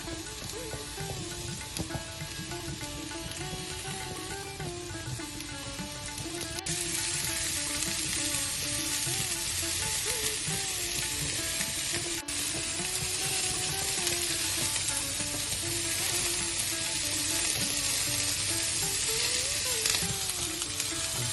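Curry leaves, mint leaves and coriander leaves frying in hot oil for green masala, a steady dense crackling sizzle that runs continuously and grows slightly louder partway through, close and with no talk.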